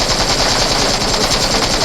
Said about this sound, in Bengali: তার এই পাশে একটু এনিমি, সে দেখেছে, সে গুলি দিল